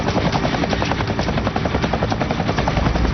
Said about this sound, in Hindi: लगता है कोई हेलीकॉप्टर से टकराया।